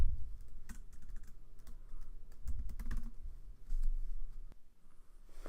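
Typing on a computer keyboard, a run of quick close key clicks in bursts with short pauses, no talk.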